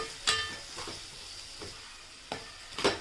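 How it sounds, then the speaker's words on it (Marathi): Lengthwise-sliced onions are stirred through hot oil in a pan, giving a few soft scraping strokes over a faint, quiet sizzle. "आता आपण कांदा कांदासुद्धा मस्तपैकी तेलामध्ये मिक्स करून घेऊयात"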